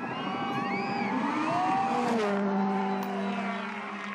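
A VW rally car at Rally Mexico 2014 accelerates hard, its engine note rising through gears with a strained, whining tone, loud and fairly close.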